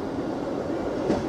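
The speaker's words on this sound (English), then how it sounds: "Here comes another East Midlands Trains Class 158 unit, arriving from Liverpool Lime Street." An East Midlands Trains Class 158 diesel unit rolls into Norwich station, a loud continuous rumble of wheels and engine close by with faint rail clatter throughout.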